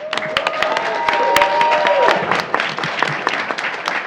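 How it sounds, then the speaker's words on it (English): A school board meeting room full of people claps steadily, with dense overlapping applause and a brief whistle-like tone partway through. "A round of applause for her entire crew and family here as well."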